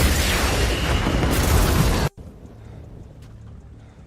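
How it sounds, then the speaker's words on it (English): A ship is destroyed in a violent explosion during a space fleet battle, a loud roaring blast that fills the first two seconds, then cuts off abruptly to a low rumbling quiet. "Stone's ship was destroyed in a violent explosion"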